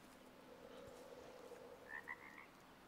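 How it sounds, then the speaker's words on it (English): Frogs croak in the Way of the Hunter video game, a faint low rattling chorus followed by a few short higher calls near the end, quiet against a soft background hum. "We got freaking frogs."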